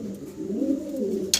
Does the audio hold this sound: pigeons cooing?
yes